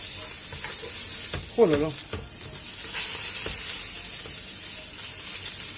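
A hamburger patty fries in a pan with a loud, continuous crackling sizzle, while a man briefly exclaims partway through.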